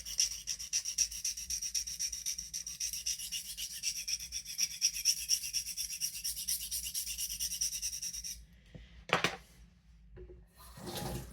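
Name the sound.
sharpening a paring knife on a sharpening plate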